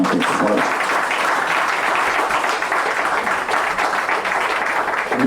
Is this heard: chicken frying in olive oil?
no